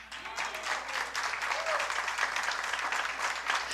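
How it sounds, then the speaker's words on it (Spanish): Audience applause rises and holds as a dense, moderately distant wash of clapping with a few voices mixed in. "Y te mereces un aplauso."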